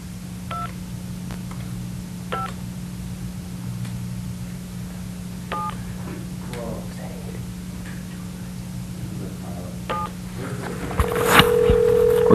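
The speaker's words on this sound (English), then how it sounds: "Dial the number." A series of short two-tone keypad beeps dialing a number for a live on-air call, spaced irregularly over a steady low electrical hum, ending in a brief tonal burst.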